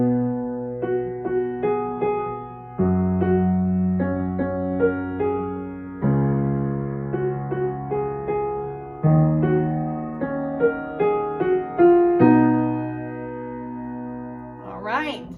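Piano playing a song at an easy tutorial level: sustained left-hand chords change every few seconds beneath a simple melody, clean and close, ending with a brief noise.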